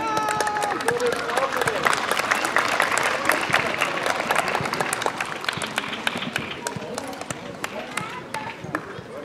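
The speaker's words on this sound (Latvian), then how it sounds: "aplausi." Audience applause at a children's sports festival awards ceremony in Jūrmala, a lively crowd clapping steadily for several seconds with voices chattering underneath, easing slightly toward the end.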